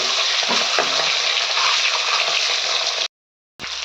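Eggs frying in hot oil in a pan produce a loud, continuous close-up sizzle with light bubbling and a few soft scrapes, cut by a brief silence near the end before the hiss returns.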